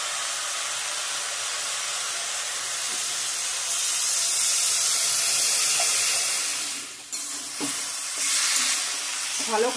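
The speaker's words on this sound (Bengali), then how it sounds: "ভালো করে কষিয়ে নেব।" Cauliflower florets fried with onion, now with peas and tomato paste added, sizzle and hiss loudly in a pan while being stirred, a steady close frying sound with scraping touches near the end.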